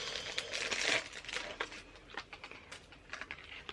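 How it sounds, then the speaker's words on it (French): A small plastic pouch crinkles and rustles as an enamel pin is slid out of it, close and fairly quiet, with irregular crackling bursts that taper off into lighter handling noises. "Attendez, je vous le sors quand même de sa petite pochette"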